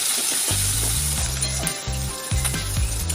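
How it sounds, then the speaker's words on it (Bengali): Turmeric, chili, cumin and coriander powders with salt and sugar sautéing in a pan: a loud, continuous close sizzle with low rumbling and a few faint clinks of a utensil, no voices. "সমস্ত মশলাগুলোকে একটু কষিয়ে নেব"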